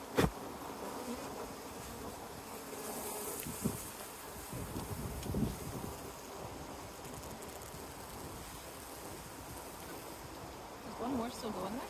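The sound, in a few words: honey bees buzzing on a hive while supers are added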